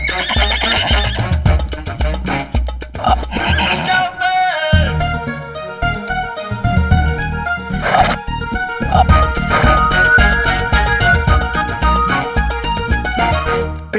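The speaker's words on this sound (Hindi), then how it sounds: "ये घोड़ा शरीफ लगता है।" Horse neighing in a Hindi television episode of Aladdin, whinnies mixed with dramatic background music and some hoof sounds, loud throughout.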